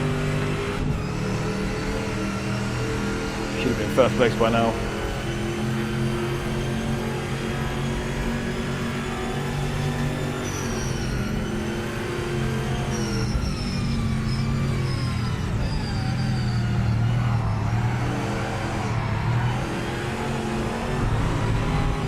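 Project Motor Racing race car engine from the GT Icons pack, a loud continuous drone holding steady with slight rises and dips as the car drives on, with a brief spoken line over it.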